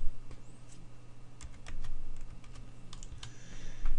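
Fingers type a command on a computer keyboard in Command Prompt, producing a steady run of close, crisp key clicks over a low background hum.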